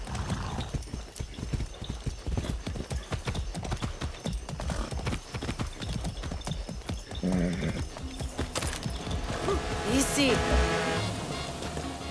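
Horse hooves clip-clop in a steady, rapid rhythm on a ride in the video game Far Cry 6, loud and close throughout, with game voices and a brief whinny-like sound near the end.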